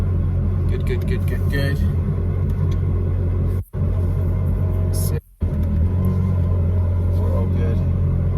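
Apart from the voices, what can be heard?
Ferrari driving in first gear after repair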